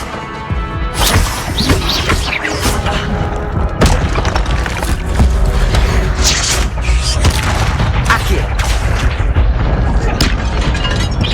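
Incendio fire spells cast in Hogwarts Legacy in a library's secret section: a loud, continuous roar of bursts and crackling impacts, with repeated sharp flares and thuds layered over a steady rumble.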